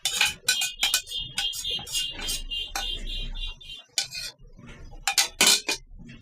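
A cooking pot for boiling eggs is handled, with busy metallic clanks, clinks and scrapes close by, coming in uneven clusters and brief pauses.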